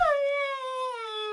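A dog in the Warcraft 3 video game lets out a single clear, sustained howl that slowly falls in pitch, loud and close, with no talking.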